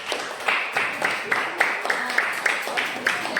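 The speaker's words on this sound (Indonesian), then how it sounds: "Tepuk tangan untuk kita semua." Students in a classroom applauding together, a run of brisk, fairly regular claps with sharp peaks, moderately loud, with faint voices beneath.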